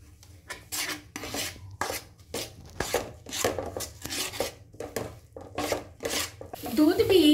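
Ground bread crumbs are stirred into a milk mixture in a pan for bread barfi, producing a run of rhythmic scraping, rasping strokes of a spoon against the pan, moderately close, ending in a brief sizzle-like clatter.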